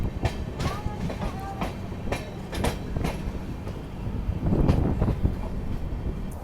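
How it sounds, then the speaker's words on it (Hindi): Rajdhani Express rolling out of a station after a long halt, with steady wheel rumble, repeated clacking of wheels over rail joints and occasional brief metallic squeals, heard close from on board. "यहाँ पे ट्रेन काफ़ी देर से रुकी हुई थी और फाइनली यहाँ से डिपार्चर हो चुका है अपना"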